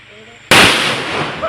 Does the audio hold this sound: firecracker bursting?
yes